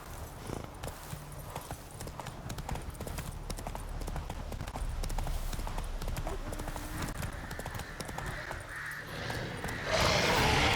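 Rhythmic clip-clop of horse hooves trotting steadily in the video game The Witcher 3, moderately close, with faint ambient noise and a brief rise in hiss near the end.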